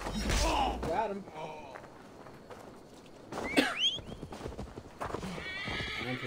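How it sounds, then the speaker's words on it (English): A winged horse in Assassin's Creed Valhalla whinnies loudly over clopping hooves, with thumping steps and a second neigh partway through, against a busy game background. "I'm going to ride my winged horse."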